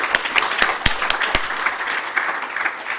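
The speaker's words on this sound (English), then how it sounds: "let's give us a round of applause to all of us for participating" Brief round of applause from participants at an electricity transmission research conference, a few sharp distinct claps over a dense crowd clatter, close and fairly loud.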